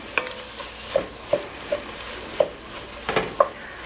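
Chopped garlic stirred into vegetables in a gumbo pot, a low sizzle under about seven distinct spoon scrapes and knocks spaced unevenly, close and fairly clear, with no talking.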